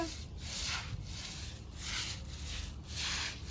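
A brush scrubs a mossy, algae-covered floor in steady back-and-forth strokes, a close rhythmic rasping about twice per second, with no voices.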